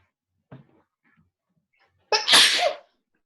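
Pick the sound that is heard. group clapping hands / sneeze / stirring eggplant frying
sneeze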